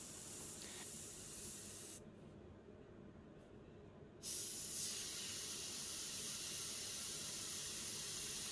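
Supernova Studio Ninja airbrush spraying paint, a steady close hiss that cuts out for about two seconds mid-clip, then resumes slightly louder and continues to the end, with no talking.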